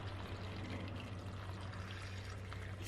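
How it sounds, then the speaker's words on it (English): Three cups of water pour into a pot of duck stew with tomato, ginger, potato and citrus. The pour is a steady, soft splashing under a low electrical hum, with no talking. "Now add 3 cups of water,"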